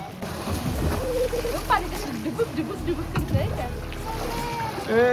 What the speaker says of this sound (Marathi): अशा तऱ्हेने आमची आता बोट राईड चालू झालेली आहे. स्पीड बोट आहे याला.